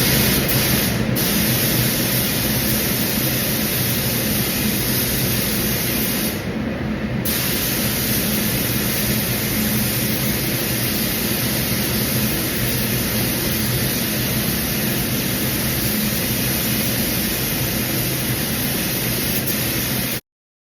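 A spray gun lays full base colour coats on a Holden HX Kingswood body during restoration, giving a steady, loud broadband hiss that runs almost unbroken for about twenty seconds with only a brief dip partway through.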